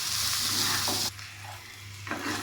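Okra being stirred as it fries in a pan, a steady close sizzle with scraping strokes; the frying briefly drops away around one second in, then the sizzle and stirring return.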